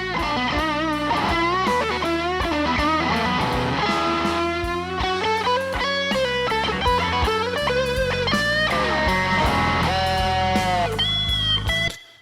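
Heavily chorused electric guitar plays a long melodic passage, the notes warbling noticeably in pitch, ending with a final ringing note that cuts off, in an attempt at Stevie Ray Vaughan's 'Sky Is Crying' tone.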